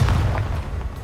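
A spell blast from the Expulso charm in Hogwarts Legacy: a loud, low booming burst at the start that rumbles on with a dense, continuous low-end roar across the short moment.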